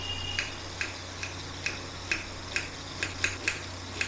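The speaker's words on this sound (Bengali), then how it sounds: "ধনে পাতাটাকে কুচিয়ে নেবো" A knife chops fresh coriander leaves on a board with about ten crisp, evenly spaced taps that speed up slightly toward the end, over a low, constant background hum.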